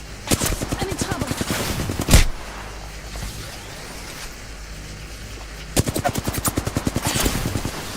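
Two bursts of rapid automatic gunfire from an Apex Legends match, one early and one near the end, each a fast rhythmic string of close shots separated by a quieter stretch with a single sharp crack between.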